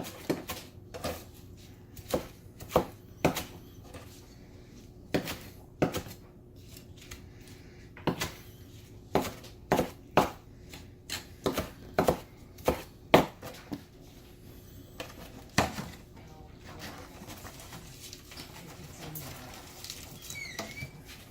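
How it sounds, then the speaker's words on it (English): A knife rough-chops spinach into thin strips on a board, sharp irregular thuds coming in loose bursts, close and fairly quiet, with no talking. "I'm going to chop up a couple of cups worth. 2 or 3 meaty handfuls."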